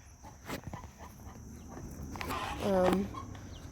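White backyard chickens cluck softly in a short burst near the end, following faint scattered sounds and a person speaking nearby.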